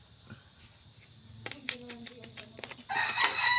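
A rooster crows loudly and close by, rising into a harsh drawn-out call at the end, with scattered clucks and some handling noise earlier.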